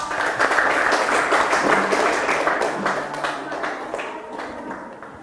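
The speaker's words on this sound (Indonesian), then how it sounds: "Ya, tepuk tangan untuk kelompok 4." Classroom applause for a student group at a junior high school session, a moderate burst of clapping that swells early and then gradually fades out.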